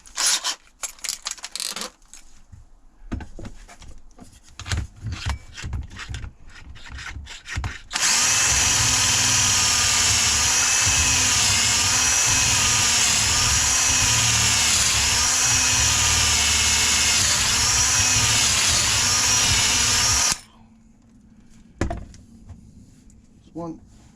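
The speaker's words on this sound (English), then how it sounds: "pocket hole drill bit" Power drill driving a pocket hole bit into reclaimed skip wood for a coffee table, a loud sustained whine lasting about twelve seconds, preceded and followed by short bursts of handling clatter.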